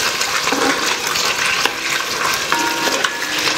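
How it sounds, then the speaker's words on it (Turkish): Meat sautéing in hot oil in a pot, a steady dense sizzle and crackle that runs throughout with occasional small clinks and stirs. "Etimizi burada yavaş yavaş kavuracağız."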